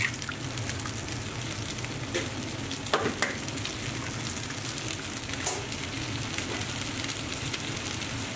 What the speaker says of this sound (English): Now turn your heat back up to high, and we're going to crack in 2 eggs